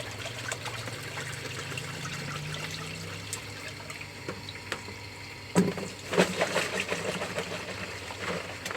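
Water sloshing and trickling in a bucket as a mesh hash bag is jiggled like a tea bag in a laundry, soft continuous swirling with splashier bursts toward the end.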